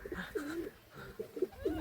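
Soft, low pigeon coos recur in short bursts, close and moderately quiet, with no one talking over them.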